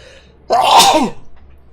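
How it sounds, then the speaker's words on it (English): A single close, loud sneeze bursts out after a brief quiet moment, then fades quickly. "There's a sneeze coming on."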